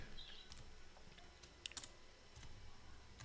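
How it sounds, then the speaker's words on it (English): Typing on a computer keyboard, faint scattered key clicks at an uneven pace over a hissy background, with a few slightly sharper taps, no one speaking. "you start typing fast"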